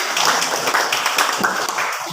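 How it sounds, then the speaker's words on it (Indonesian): Children in a classroom clap their hands together in a dense, steady patter that runs throughout, fairly close and loud, with no clear talking over it. "Tepuk tangan, teman."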